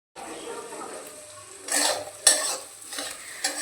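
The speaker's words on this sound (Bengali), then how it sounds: "তারপরে দিয়ে দেব কেটে রাখা আলু পেঁয়াজগুলোকে হালকা করে ভেজে নেব।" Cut potatoes and onions frying lightly in mustard oil in a wok for chowmein, with a soft steady sizzle broken by a few louder scraping stirs of a spatula against the pan.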